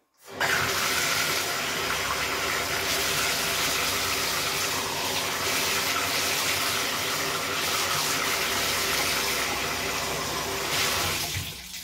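Water pours steadily and loudly onto a potted staghorn fern for several seconds, a constant splashing rush that stops abruptly at the end.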